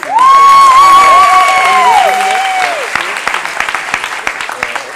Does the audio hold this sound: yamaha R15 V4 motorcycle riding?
no